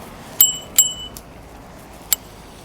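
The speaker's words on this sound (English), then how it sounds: "My little kitty bell there is probably gonna have to be upgraded." A small bell on a bicycle riding the sidewalks of Sudbury gives three bright, quick pings: two close together, then one more after a pause, over quiet outdoor background.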